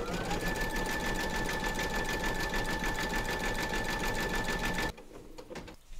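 An embroidery machine stitches round 12 of a large surfing Santa design in red thread on the tunic, a loud, steady mechanical whirr with a sustained whine that runs continuously before cutting off near the end.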